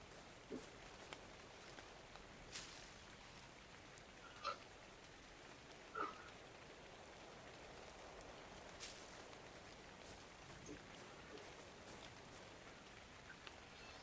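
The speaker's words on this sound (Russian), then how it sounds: "Мало того, что ночь, еще и дождь пошел." Soft, steady nighttime rainfall in the video game ARK patters in the background, quiet and continuous, with a few louder isolated drops or taps.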